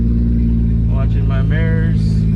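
A Toyota MKIV Supra engine rumbles steadily while the car reverses, with a low, constant drone and a person speaking over it.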